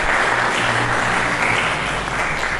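A church congregation applauds during a sermon, a dense, steady wash of many hands clapping together at close range, sustained without pause and with no voices over it.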